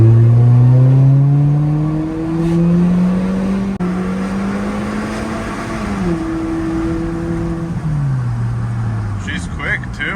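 The engine of a rare Mini Cooper that has been falling into limp mode drones close up and rises through a quick pull, its pitch climbing and then dropping back in stepped shifts.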